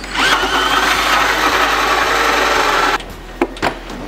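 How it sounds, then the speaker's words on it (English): An electric drill runs steadily at high speed for about three seconds, loud and close, then cuts off, leaving a couple of brief knocks. "Go get my electric drill."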